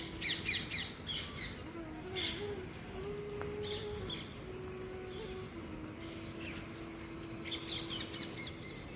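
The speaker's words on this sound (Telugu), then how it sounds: "చిలకలకి ఆహారం వేసి కొద్దిసేపు రూమ్లోంచే చూస్తూ కూర్చున్నాను" Parrots and assorted small birds calling around a feeding spot outside a room, with bright chirps and squawks scattered through steady ambient noise and a faint sustained tone.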